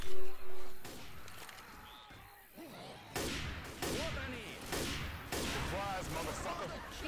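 Video game bomb explosions and gunfire burst out repeatedly, sharp loud blasts with echoing tails, mixed with shouting and scattered voices in the background.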